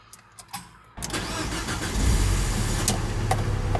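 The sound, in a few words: van engine starting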